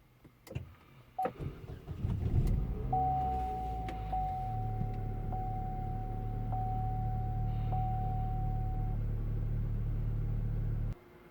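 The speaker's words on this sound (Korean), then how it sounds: "스마트 키로 버튼 한 번에 시동이 걸립니다" A Chevrolet Orlando started with a smart-key push button: a few clicks and a brief starter whir, then the engine catches into a steady low idle with a faint chime tone, running for several seconds before cutting off.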